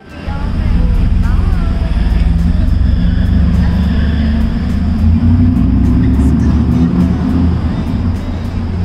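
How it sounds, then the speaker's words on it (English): Supercharged Mercedes G55 AMG G-Wagon engine running loud and steady with a deep low rumble, held at high revs for the whole stretch with no pauses. "he started the car and even revved the car for me"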